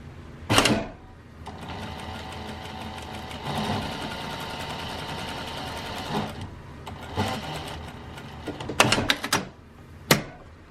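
A sewing machine runs in short bursts while stitching a seam, its whirring motor broken by sharp clunks and pauses, with faint handling noise between runs.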